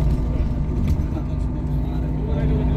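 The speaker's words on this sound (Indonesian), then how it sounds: "Kita naik bus melewati jembatan Suramadu ke Pulau Madura." A bus travels across the Suramadu bridge toward Madura island, with a steady loud low road and engine rumble filling the whole stretch and faint speech underneath.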